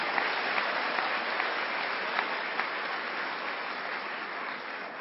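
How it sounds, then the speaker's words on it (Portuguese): A church congregation applauding during worship, sustained many-handed clapping at an even level throughout, with a few sharper claps standing out. "Pode aplaudir esse Deus maravilhoso que está no meio de nós"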